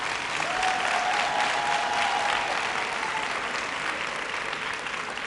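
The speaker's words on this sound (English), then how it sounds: "giving a rousing round of applause" Sustained applause from graduates at a university graduation ceremony in Mandeville, a dense steady wash of many hands clapping in a large hall, with a faint tonal whistle early on, slowly easing toward the end.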